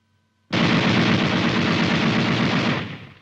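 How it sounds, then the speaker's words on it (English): An M73 7.62mm tank machine gun fires one sustained automatic burst of about two seconds, a loud, dense, rapid roar that starts abruptly and then tails off. "The gun continues to fire as long as the trigger is depressed."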